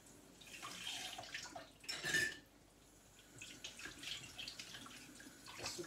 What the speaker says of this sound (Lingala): Sukola maboko na bien.